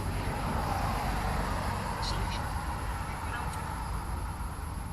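A spirit box radio sweeping rapidly through stations makes a continuous wash of loud static broken by choppy, garbled voice-like fragments, steady throughout.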